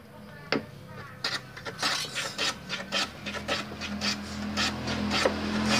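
Wooden lining for an acoustic guitar is shaved by hand, producing a close series of quick, raspy scraping strokes in an uneven rhythm that grows denser and louder toward the end.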